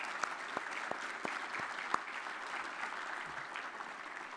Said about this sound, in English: Please join me in giving a round of applause for all of our sponsors